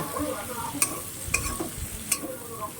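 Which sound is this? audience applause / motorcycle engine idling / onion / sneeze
onion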